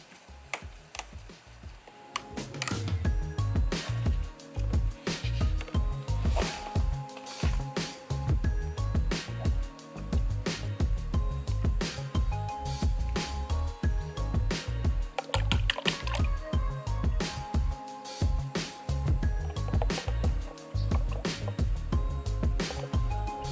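Toyota transmission fluid glugging from a bottle into a car's filler, a steady rapid run of hollow gurgling pulses that carries on without pause.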